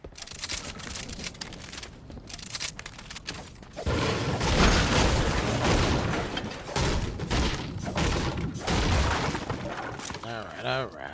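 Bursts of rapid video game gunfire and booming impacts clatter loudly through a busy, dense soundscape, with a voice heard intermittently among the noise.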